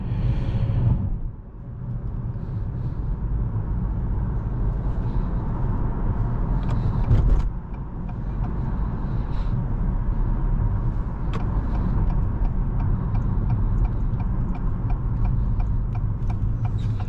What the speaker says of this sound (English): It's a pretty smooth driving car.